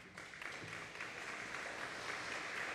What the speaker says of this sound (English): When was the last time you guys got a round of applause?